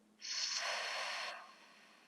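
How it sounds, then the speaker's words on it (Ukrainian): A single deep breath, a soft rushing airy inhale or exhale lasting about a second before fading, close and quiet. "Ми робимо глибокий вдих, видих."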